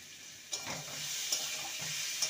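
Two slit green chillies fry with spices in a pan for a vegetarian pumpkin and chana dal dish, giving a soft, steady sizzle with a few brief stirring knocks, fairly faint.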